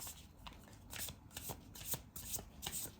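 Tarot cards riffled and shuffled by hand during a reading, a quick run of soft papery flicks, close up and quiet, with no talking.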